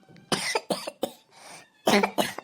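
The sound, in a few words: coughing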